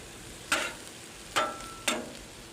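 Food caramelizing on a Camp Chef 36 Gridiron griddle gives three short sizzling bursts, each fading quickly, against a quiet background.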